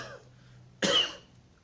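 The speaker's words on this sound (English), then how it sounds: "To cough, cough" One short, sharp cough from a person, loud and close, following a quiet lead-in.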